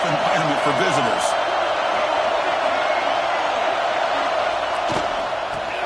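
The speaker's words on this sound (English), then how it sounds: "Listen to the crowd energy here in the early going." A stadium crowd at a football game roars as a dense, steady wash of loud noise throughout, with a few faint thuds and cheers poking through.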